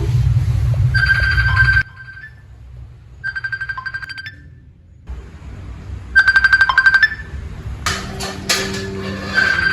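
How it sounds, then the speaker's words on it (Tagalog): A telephone ringtone rings in three repeated bursts with pauses between them, loud and close in a home kitchen, followed by other clattering sounds. "Can you please get the phone"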